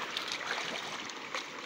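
Water thrown out of a bowl splashes and rushes continuously for a moment, a steady close watery wash with small surges.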